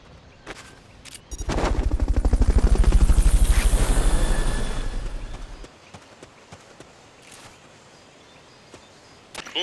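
Helicopter in Metal Gear Solid Peace Walker rising to a loud, fast rhythmic rotor chop that holds for several seconds, then fades away, leaving faint sparse clicks.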